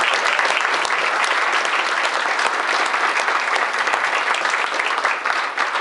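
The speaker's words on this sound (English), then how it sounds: "Give them a huge round of applause." A crowd at a candidate forum event claps in a thick, even burst of applause that stays loud and close throughout, without any voices over it.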